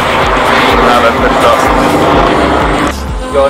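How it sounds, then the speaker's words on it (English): A police helicopter flies overhead with a loud, steady rotor thump throbbing throughout, easing briefly near the end, while people talk outdoors. "Here comes the police helicopter, by the way."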